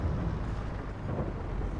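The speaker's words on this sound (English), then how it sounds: "once this rain's gone" Rain in a farming video game, a steady low rumbling wash with a soft hiss, constant and fairly loud, with no talk over it.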